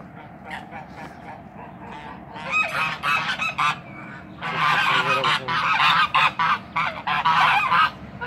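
Geese of the native Çorum breed honk loudly and repeatedly in a noisy flock, their harsh calls overlapping in bursts that build and swell toward the end.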